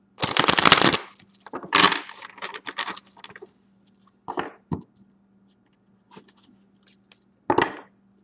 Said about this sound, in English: here's the shuffle